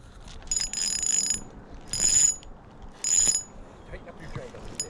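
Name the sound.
fishing reel drag clicking while fighting a fish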